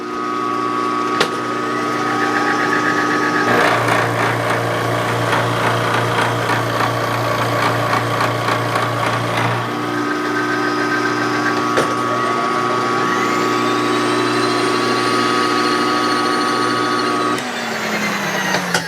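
A five-cylinder radial engine runs steadily on a test stand, a loud continuous drone with a strong low hum. The pitch rises and the sound roughens mid-run as the engine is throttled up, then it settles back and winds down near the end.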